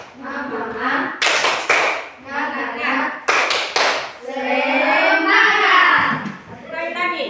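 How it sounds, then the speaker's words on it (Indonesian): A group of schoolchildren standing in class do a patterned spirit-clap routine, sharp clustered hand claps breaking between loud chanted voices in a steady rhythm. "Ayo. Mulai tepuk semangat."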